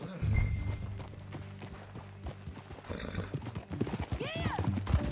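Horse hooves clip-clopping at a riding pace in the video game Red Dead Redemption 2, close and rhythmic, with a whinny near the end and some voice sounds in the background.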